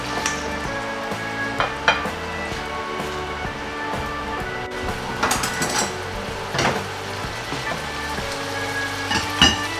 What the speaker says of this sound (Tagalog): Yan lang nating maprito ng konti